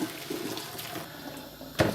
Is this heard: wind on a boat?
no